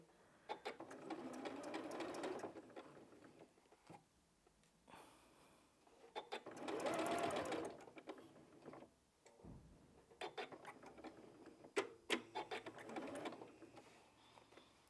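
A sewing machine stitches bulky quilt pieces in several close bursts of rapid mechanical whirring, separated by pauses with handling noises, running slowly and carefully at times.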